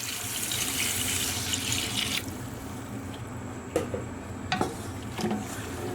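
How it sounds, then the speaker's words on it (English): Tap water runs steadily into a stew pot for Persian khoresht-e gheimeh with tomato paste and saffron water. The pour is loud for about two seconds, then stops, leaving a few faint drips and clinks. "we're going to top this up with about 3 cups of water"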